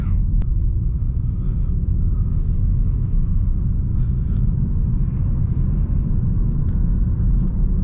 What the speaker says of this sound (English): Oh, this traffic.